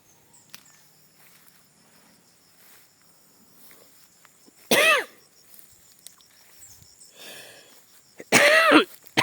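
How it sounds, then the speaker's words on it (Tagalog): Two loud, close coughing fits break up a quiet outdoor scene with faint insect chirps, each lasting about half a second to a second. "Ay, inuubo na ako ngayon."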